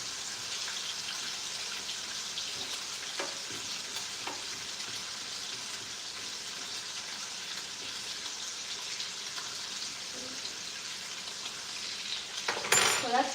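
Bacon slices frying in a pan, a steady close sizzle and crackle throughout, with a few soft scrapes and a clatter of utensils near the end.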